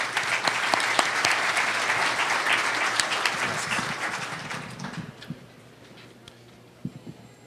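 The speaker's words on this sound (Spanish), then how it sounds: "pido un aplauso" Loud, dense audience applause at a police academy panel on unified police command, steady for about five seconds before thinning into a few scattered claps that fade toward silence.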